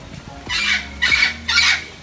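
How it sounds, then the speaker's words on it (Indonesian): Three loud, harsh calls of a maleo bird in an even rhythm, each a raspy honking burst, close up with faint background noise between them, at a bird park. "Burung maleo."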